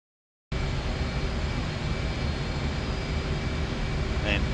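Apache helicopters taxiing on a runway in the DCS flight simulator, a steady, loud engine and rotor drone that holds throughout after a brief silent start.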